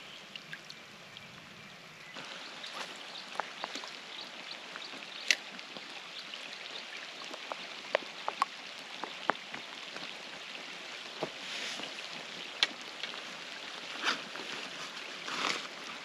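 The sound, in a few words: rain falling on a lake while pack rafting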